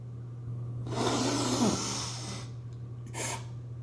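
A long, deep, audible inhalation during a glute workout, a breathy rushing intake lasting about a second and a half, followed by a shorter second breath, heard close with a steady low hum beneath.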